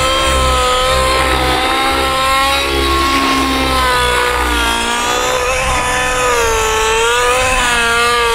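An OS Max GT15HZ gas engine with a power boost pipe runs on a Fury 55 model plane, a loud continuous buzzing drone close by whose pitch wavers slightly as the throttle shifts.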